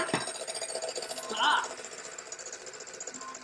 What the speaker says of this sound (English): She can't hear over the beater.